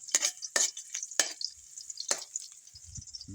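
Garlic sautés in a pan with a soft sizzle, broken by four or five quick scraping stir strokes, close and fairly quiet with no talk.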